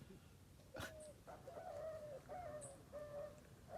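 During a bird hunt in Jamaica, a bird answers a bird caller with a string of short, faint cooing and warbling calls. The calls repeat over a few seconds against steady outdoor background noise, with no talk.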